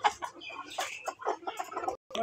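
Young beak-trimmed chickens about thirteen weeks old cluck and chatter together in a poultry shed, a busy overlapping stream of close clucks and squawks with a short pause near the end before they resume.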